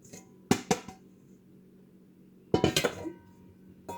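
A spoon stirs flour into butter in a bowl for thumbprint cookie dough. Two short bursts of clinking and scraping against the bowl stand out from near silence, close and fairly quiet.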